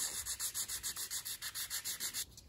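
Coarse blue sanding stick rubbed back and forth on a plastic funnel for a 1/200 scale IJN Mikasa model ship, giving about fourteen steady, rhythmic close-up strokes that stop just before the end.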